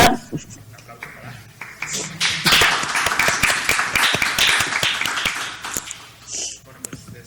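Audience applause at a conference, a swelling round of close, crisp clapping that peaks midway and fades out, with brief voices before and after.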